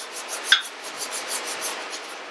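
Fork parts from a Harley FXR scrubbed with a brush in a kerosene-filled parts washer, giving a steady, close rasping rub in repeated strokes with one sharper clack near the start.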